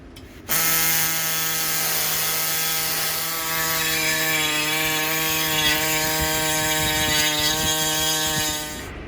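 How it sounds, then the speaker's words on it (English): A small body saw cuts through the frame of a scissor lift, with a steady tonal whine and grinding metal rasp running continuously for about eight seconds at close range. "Now we got a body saw."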